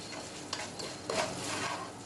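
Cashews and chana dal frying in oil for rice noodle upma, stirred in the pan with a spoon, giving a soft scraping stir over a faint sizzle and a couple of light clinks, no talking.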